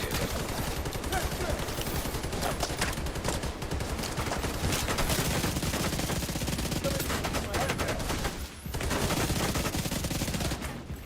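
Rapid, sustained pistol fire from the exotic Tempest in the video game Division 2, a dense stream of shots running steadily for several seconds with one brief break near the end, loud and close with a voice faintly underneath.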